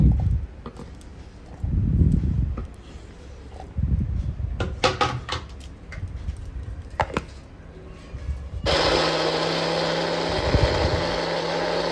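Scattered knocks and chopping taps give way to a loud, steady whirring as a mixer grinder starts up, blending tomatoes into paste, and runs for the last few seconds.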